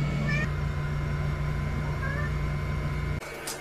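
A house cat meows briefly a couple of times, soft and close, over a steady low electrical hum from a portable battery power station, with a sharp noise near the end.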